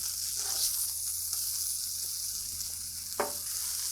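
Burger patties sizzle on a Blackstone flat-top griddle, a steady close hiss of frying fat with a few soft scrape and spatula knocks, one sharper near the end, and no talk.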